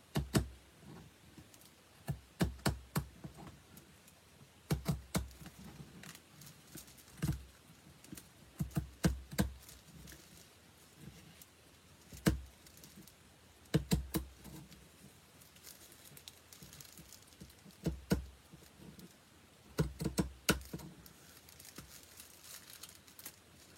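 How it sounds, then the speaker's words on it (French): Scissors snip through a paper sewing pattern for a blouse, a series of short crisp cuts coming in irregular bursts with brief pauses between them, close and fairly quiet with no talking. "on a juste à couper le long de notre patron"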